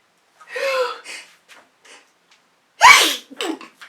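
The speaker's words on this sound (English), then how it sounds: "I'm going to sneeze." A single loud, close sneeze with a sharp breathy burst, preceded by quieter gasping inhalations and followed by a few small breaths.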